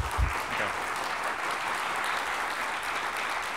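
A conference audience claps at a programming talk, dense even applause from a crowd holding steady from start to finish, with a brief low thump near the opening.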